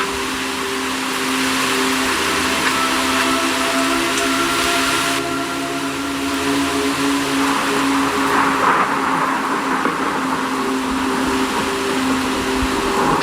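Steady heavy rain pours down with a dense hiss, while low rumbles and a few hums sit underneath throughout.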